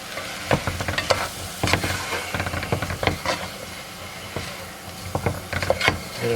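Flour is stirred into sauteed onions and celery for potato soup, giving a steady sizzle with repeated scraping spoon strokes against the pot, close and alone.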